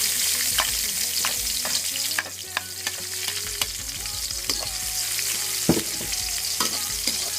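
Garlic, onion and tomato fry in a pan with a constant broad sizzle, punctuated by scattered scraping stirs and spatula clicks close by, with no voices over it.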